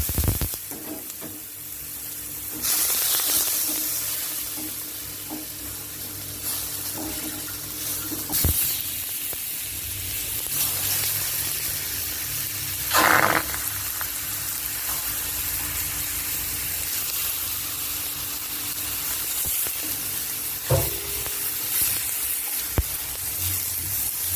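Ingredients stir-fry in a small amount of oil for a thick-broth kuay jap noodle dish, a steady close sizzle with occasional scraping stirs and louder hissing flare-ups as food is moved around the pan.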